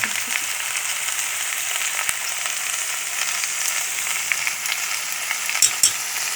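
Pumpkin and potato pieces fry in oil with a little salt added, producing a loud, continuous close sizzle with occasional scraping and clinking from a utensil stirring the pan, no voices present.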